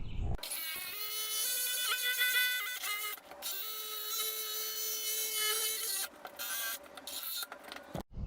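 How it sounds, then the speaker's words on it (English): A jigsaw cuts wood pieces for a wall-mounted drill and tool holder shelf, giving a loud, steady buzzing saw run broken by a few short pauses and restarts. "I don't have a bandsaw, so I'm going to use my jigsaw. I'm going to cut these out real quick"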